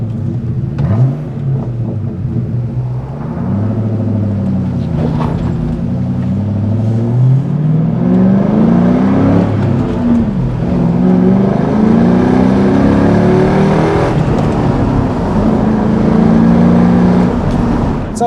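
A 2004 Ford Mustang Mach 1 V8 on its stock exhaust pulls through the gears while driving, its engine note climbing and dropping in repeated sweeps as a steady, loud motor drone dominates.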